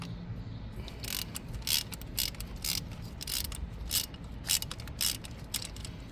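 A ratchet clicks in short bursts while loosening the ignition coil bolts on a 2019 VW Tiguan engine, sharp close metallic pawl rattles repeated several times, no talking.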